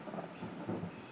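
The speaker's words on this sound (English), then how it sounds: "you hear that thunder?" Thunder rumbling low and faint in the distance, a soft continuous roll lasting about a second with no speech over it.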